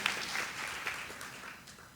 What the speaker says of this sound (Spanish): Un aplauso al magistrado Dimas